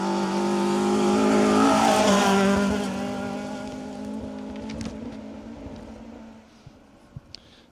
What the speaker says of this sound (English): Neil James and Siobhan Pugh on the limiter through this first stage of the day